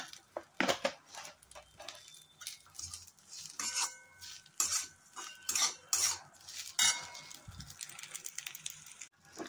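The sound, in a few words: mixing masala and okra (bhindi) with salt in a pan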